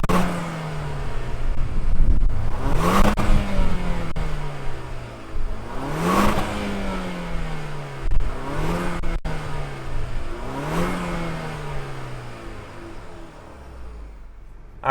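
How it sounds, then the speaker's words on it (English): A 2020 Jaguar XE R-Dynamic sport sedan's engine revs up repeatedly, with four rising surges falling back to idle, loud and close throughout with no talking. "let's fire it up and see if this XE makes any sound"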